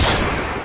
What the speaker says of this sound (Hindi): फिर से गोली चली, जाओ देख कर आओ।